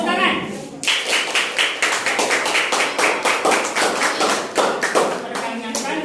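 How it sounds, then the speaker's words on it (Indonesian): Students in a classroom break into brisk, dense applause after a short pause, with many close hand claps overlapping in a steady, lively patter that continues to the end. "Ya, tepuk tangan."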